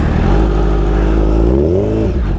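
Motorcycle engine with a very sensitive throttle revving close by, a steady loud drone that climbs in pitch, then falls away quickly at the end, with no talk.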